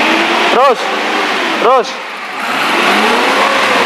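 A 2007 Suzuki Carry Futura 1.5 injection pickup engine revs twice at the exhaust, two sharp rising-falling bursts over a steady idle, close, with a person speaking briefly.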